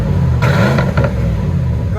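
A 1995 Ford F-150 pickup with a Windsor V8 and glass pack exhaust revs up in a short, loud burst that then settles back, with a voice briefly heard over the exhaust.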